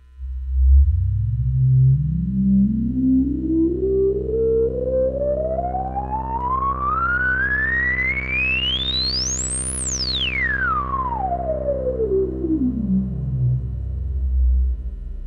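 Korg Mono/Poly analog synthesizer with the filter resonance cranked up: a loud sustained low tone whose resonant peak sweeps steadily upward into a piercing whistle, then slides back down to a deep rumbling bass, alone with no talk.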